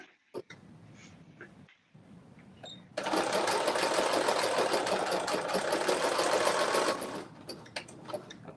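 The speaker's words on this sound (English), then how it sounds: "And I'm doing a zigzag stitch just because." A sewing machine runs a zigzag stitch back and forth over overlapping fabric ends in one steady, loud four-second burst, with faint room sounds and small clicks before and after.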